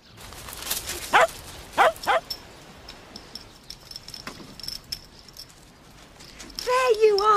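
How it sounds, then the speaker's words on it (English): A dog barks in a few short, sharp bursts early on, then quieter yips and whimpers, with a person talking nearby. "Pippin, all you've got to do is bark at him, then he'll run away."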